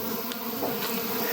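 Stingless bees hum steadily and fairly close at the entrance of their colony box, with many insects hovering in front. The drone is continuous, and no voices can be heard.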